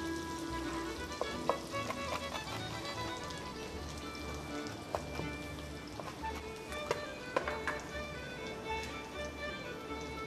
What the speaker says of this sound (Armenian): սոխառած պատրաստենք հիմա